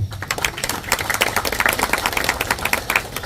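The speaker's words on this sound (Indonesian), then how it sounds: "Sekali lagi tepuk tangan." An outdoor crowd at a local road-building announcement breaks into steady, dense applause, many hands clapping at once in a continuous rattling wash.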